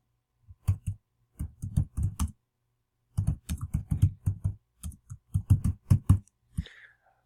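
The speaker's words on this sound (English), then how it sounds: "Now I'm going to type some text in there." Close, crisp keystrokes as text is typed on a computer keyboard, coming in quick bursts of rapid clicks separated by short pauses, with no talking.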